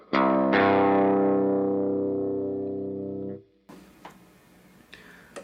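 An electric guitar in drop C tuning strikes an open power chord, re-struck once, then rings out with heavy distorted sustain for about three seconds before cutting off, followed by faint handling noise and clicks.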